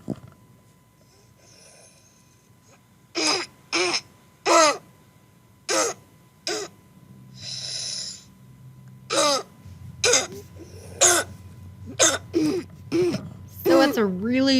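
A voice imitating the deep, seal-like barking cough of parainfluenza croup, giving several short, sharp, harsh bursts in an irregular series between quieter breathy stretches.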